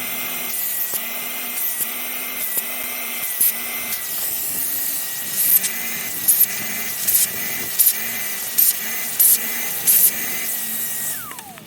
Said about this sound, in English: I've got my trusty 80 quid extractor